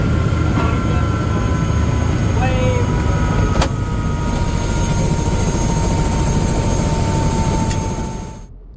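Loud, steady helicopter rotor and engine drone fills the cabin during a sightseeing ride over Cape Town, holding constant before fading at the end.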